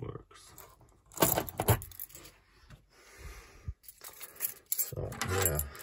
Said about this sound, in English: put these keys on this key ring here